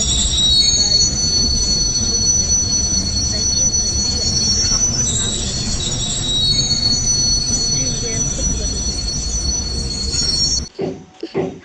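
A train brakes with a loud, sustained high-pitched wheel squeal over heavy rumbling. The squeal holds steady for about ten seconds, then cuts off abruptly, leaving a few softer knocks.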